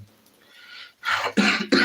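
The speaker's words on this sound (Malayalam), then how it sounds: "സോറി ഗേസ് ചുമ പിടിച്ചോട്ടോ ചുമ" A person coughs three times in quick succession, close and loud, after a soft breathy sound.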